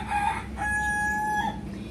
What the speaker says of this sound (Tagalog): Nagtitilaukan ng mga manok.